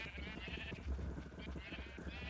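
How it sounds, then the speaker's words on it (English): Sheep bleat in the Minecraft FTB Minevoid Unleashed modpack. Several blocky game bleats overlap steadily at low volume over a busy game background. "there's sheep."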